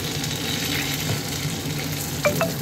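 Potatoes and curry leaves frying in hot oil in a pan: a dense, steady sizzle with light stirring, close and even, with no talking.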